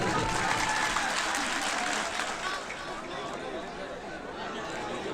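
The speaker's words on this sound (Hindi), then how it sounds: "जी तालियां बजाकर हुक्म दे।" Audience at a mushaira poetry recital in Mahmoodabad, India, breaking into loud sustained applause mixed with crowd chatter, slowly easing in strength over several seconds.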